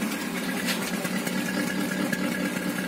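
Petrol 1.1 engine of a high-mileage Peugeot 206 idling roughly, a steady close mechanical drone with an uneven, slightly choking beat and no voices over it.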